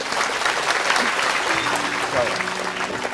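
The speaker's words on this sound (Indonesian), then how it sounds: "Semuanya teman sekalian tepuk tangan untuk Gusmus" An audience at a religious gathering applauds for Gus Mus, dense continuous clapping filling the hall, loud and even throughout with a few voices mingled in.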